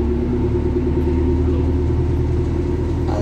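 A Volvo 7700 hybrid bus pulls away, giving a steady, close, low engine rumble with a constant drone that runs unbroken throughout.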